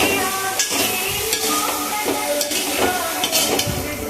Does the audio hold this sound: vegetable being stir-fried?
yes